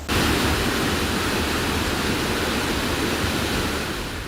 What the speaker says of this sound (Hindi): तेज बहाव के साथ दिख रहा ये पानी किश्तवाड़ में बादल फटने के बाद इस नदी में आया